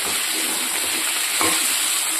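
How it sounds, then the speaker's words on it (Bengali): Fried potato pieces being stir-fried with mutton in a hot pan, a steady broad sizzle throughout with a brief scrape of the spatula near the end, close and fairly loud. "এবার আলুটার সঙ্গে ভালো করে একটু কষিয়ে নেব।"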